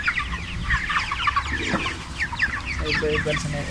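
Many chickens cluck and squawk together inside a poultry farm in a dense, continuous chorus, close and busy, with low rustling and a brief murmur of voices beneath.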